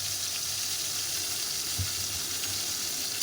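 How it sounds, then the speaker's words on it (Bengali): Tomatoes and ginger paste fry and get stirred in a pan. They give a steady, close sizzle with faint scraping, and no voices are heard. "একটু নাড়তে থাকবো যাতে টমেটোটা একদম সেদ্ধ হয়ে গলে যায়। তারপরে পরিমাণ মতো আদা বাটা দিয়ে দিলাম।"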